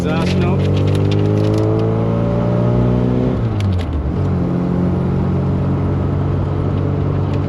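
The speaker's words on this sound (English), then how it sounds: "This thing has an excellent exhaust note." A 1974 MG Midget drives along, its exhaust giving a steady, throaty drone that rises in pitch and then drops as the gears change, loud and close inside the car.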